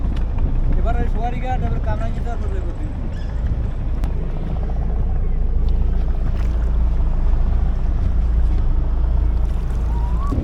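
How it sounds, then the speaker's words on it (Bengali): A boat travels on the Buriganga river between Jinjira and Kamrangirchar, giving off a constant low engine-like rumble and water wash close by. Voices talk over it near the start. "উনি নৌকা চালাচ্ছে হচ্ছে আমরা এনজয় করতেছি"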